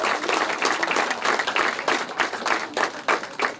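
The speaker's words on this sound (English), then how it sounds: "They deserve a huge round of applause." An audience at a banking conference gives a round of applause for finance veterans, with dense, continuous clapping from many hands at even loudness throughout and no voices over it.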